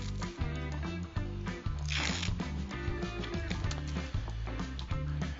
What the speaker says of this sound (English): We're going to peel this tape back